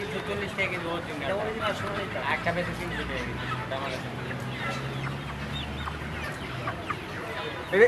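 Chickens cluck and murmur under busy nearby conversation at a poultry market, a steady hubbub of voices with scattered bird calls throughout.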